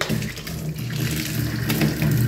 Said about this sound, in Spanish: Observen ahora la presión que tenemos de agua aquí, eso es dentro de la casa